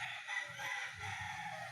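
Chickens in a rural yard, with a rooster crowing and hens clucking nearby, are heard over faint background noise and no speech.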